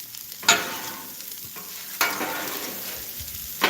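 Food sizzles and crackles steadily in a pan, with sharper bursts of spattering at intervals over a constant frying hiss.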